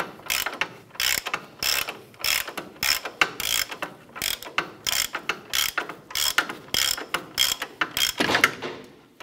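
A ratchet fitted with a 22 mm socket works loose the ball joint nut on a 1994–2004 Chevrolet S10 front suspension, giving rapid, repeated clicking bursts close up, steady and loud throughout.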